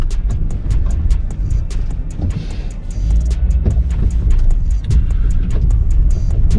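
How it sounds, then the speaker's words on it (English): A Volkswagen Touareg V10 drives past at speed, a deep rumbling engine note swelling as it nears, amid repeated sharp clicks and outdoor background noise. "Ooh, V10 Touareg."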